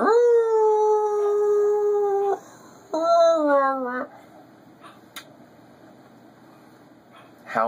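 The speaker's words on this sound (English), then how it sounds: "Howling gets her very tired." A dog howls close by in two long, wavering notes, the second rising and falling, followed by quieter room sounds and a brief final whine.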